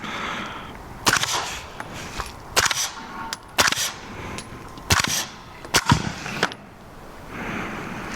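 Five suppressed gunshots from a radial delayed 300 Blackout rifle with a 9mm front cap and adapter, sharp loud cracks spaced about a second apart with a brief double near the end, each followed by a short tail.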